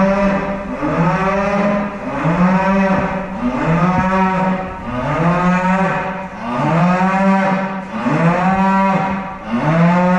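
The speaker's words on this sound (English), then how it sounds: "So we've got a bulling cow next door wanting to join in." A cow in heat next door on a livestock farm moos loudly and repeatedly, long drawn-out bellows following one another in a steady rhythm, close and dominant.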